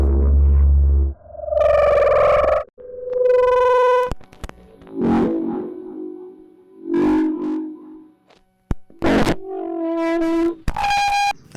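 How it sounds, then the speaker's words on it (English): A contact mic pressed against a speaker face feeds back into itself, producing layered ringing tones, sustained electronic whines and pitched drones that swell, cut off abruptly and return with echoing, overlapping harmonics. "It was a contact mic connected to a speaker that was playing what it was capturing."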